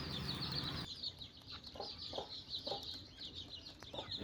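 Chickens in a village coop cluck in short repeated bursts at moderate distance, over a steady background hum that drops partway through, no talking.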